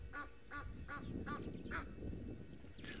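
Egyptian geese give a run of five or six harsh honking calls in a steady rhythm, then a last one after a pause, over outdoor background noise at a safari live stream.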